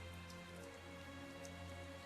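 Steady in-game rain from Tales of Zestiria hisses evenly over a low droning ambient music bed, continuous and fairly quiet with no talk.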